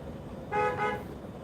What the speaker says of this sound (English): Your mom honked.